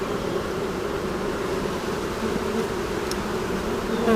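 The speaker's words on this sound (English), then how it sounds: "that's a whole mess of bees" A dense, steady buzzing of a swarm of bees fills the space up close, droning continuously without letup.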